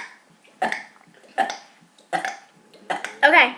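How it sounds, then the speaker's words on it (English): A person burps repeatedly, four separate loud belches at a steady pace, the last one longer and more drawn out, with quiet pauses in between. "just going to be burping and show you"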